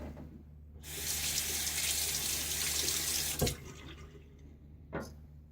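Tap water runs steadily into a sink while a shaving razor, a Gillette Silver Blue, is rinsed under it, a close rush lasting about three seconds that stops abruptly, followed by a couple of short taps.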